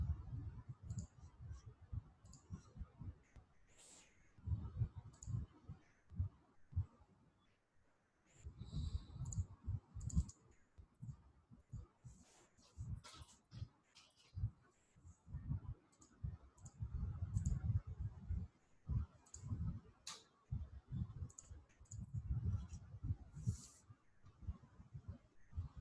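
A computer mouse clicks repeatedly, close up, in irregular bursts of soft taps and scrolling clicks spread over a long stretch, with brief quiet gaps between runs.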